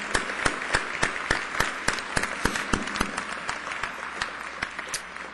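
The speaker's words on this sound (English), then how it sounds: "Let's give them a round of applause." Applause from a graduation audience as alumni of Dakota State University stand: dense, steady clapping from a large crowd, with sharp individual claps standing out all the way through and no talk.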